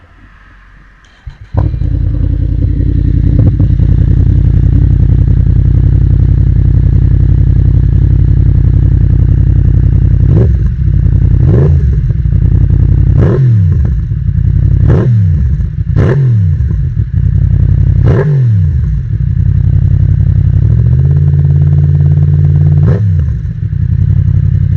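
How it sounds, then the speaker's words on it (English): A Yamaha MT-10 SP motorcycle engine fires up after a brief crank, then settles into a loud, steady, close idle punctuated by several sharp throttle blips. "I'll give you a startup sound quickly, so you can hear what the bike sounds like."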